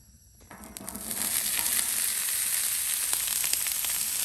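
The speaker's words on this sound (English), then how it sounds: "Throwing down our onions." Onions dropped onto a hot, oiled Blackstone griddle, a sudden surge of loud, hissing sizzle that settles into a steady, close crackle with faint pops, no talking.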